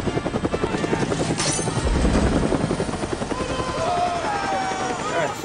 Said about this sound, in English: there comes the chopper